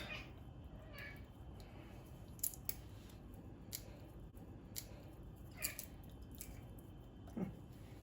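Walnuts broken into small pieces by hand give a few quiet, scattered crackling snaps over a faint, steady background hiss.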